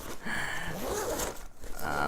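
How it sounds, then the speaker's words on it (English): A zipper on a Lowepro Photo Hatchback camera bag is pulled open in a few quick ripping strokes close by, with a person talking over it. "And then in the second zipper, if I could get it off, that'd be very cool."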